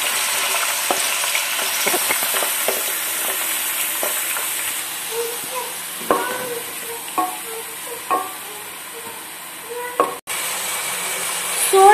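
Sliced onions sizzle steadily in hot oil in a pan while a masala is being made, with scattered scrapes and clinks of a spoon stirring them under a constant frying hiss; no one speaks.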